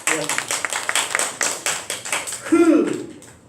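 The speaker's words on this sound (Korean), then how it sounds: "우리 박수 한번 해요." A church congregation claps together during a Sunday sermon, a quick run of sharp rhythmic hand claps close by, tapering off as a voice begins speaking.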